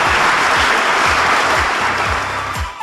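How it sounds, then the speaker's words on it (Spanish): Applause from a class or studio group congratulating a student in a secondary-school lesson, steady dense clapping filling the whole stretch, close and loud with a slight fade near the end. "Aplausos."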